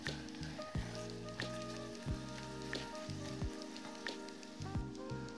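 Onion and rice fry in a pan with a faint, steady sizzle and soft crackling pops, under quiet tonal background sound and with no one speaking.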